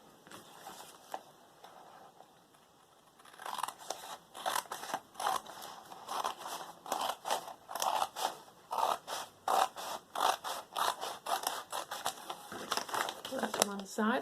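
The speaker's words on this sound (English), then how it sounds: "So we'll cut this up here." Scissors cut roughly through doodle-printed paper in a string of crisp snips and crinkles, close and fairly quiet, following a soft lead-in of rustling.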